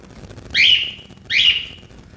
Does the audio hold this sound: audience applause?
no